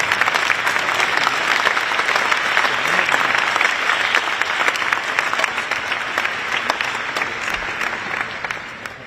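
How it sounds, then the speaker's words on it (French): A crowd applauds steadily for several seconds at the IOC's official invitation ceremony marking one year to the Paris 2024 Olympics, the dense clapping holding loud and even before easing slightly at the end. "Si vous voulez, vous pouvez applaudir un peu"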